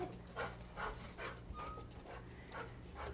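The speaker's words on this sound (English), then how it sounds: "But she's a golden retriever, 4 years old." A four-year-old golden retriever panting in quick, rhythmic breaths, close and fairly quiet, with faint whimpers and a low background hum.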